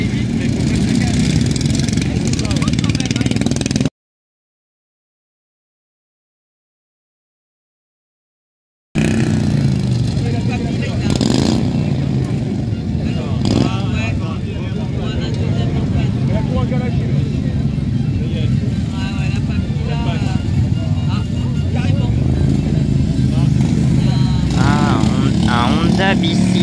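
Small engines of ride-on lawn tractors racing at a mower race in Saché, France, droning and revving continuously nearby over outdoor crowd noise and people talking, with a brief dropout early on.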